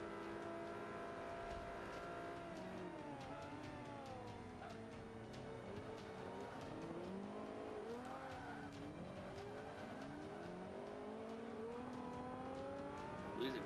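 A modified car revs hard in second gear on a track, its engine note climbing and falling in long swooping sweeps as the tires lose traction and squeal, loud and close throughout.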